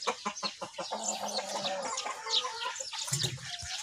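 Peruvian breeder roosters on a farm, with clucking and crowing-like calls over a busy, continuous background of other birds, fairly close and moderately loud.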